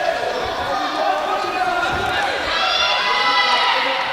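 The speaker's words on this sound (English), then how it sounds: "Plenty of shouting from the crowd imploring these two to go forward" A crowd shouts and yells steadily throughout a women's bout at the World Boxing Cup Finals in Sheffield, with a commentator speaking over the continuous arena noise.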